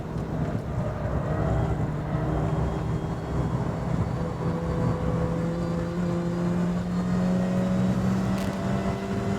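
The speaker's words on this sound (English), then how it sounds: "It sounds like they've got a slightly mewling child under the bonnet actually, rather than a supercharger." A steady, droning supercharged engine of a 2006 MINI Cooper S JCW GP, with a thin high supercharger whine running throughout, loud and continuous, with no break.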